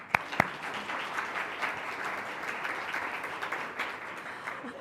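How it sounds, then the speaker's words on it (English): An audience applauds at a Columbus Metropolitan Club forum, a steady wash of many hands clapping at moderate distance, with a couple of sharper close claps near the start and no talk over it. "I certainly believe that deserves a round of applause"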